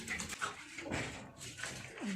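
A pet dog whimpers during Kukur Tihar festivities at home, making soft, close, high-pitched whines in short bursts.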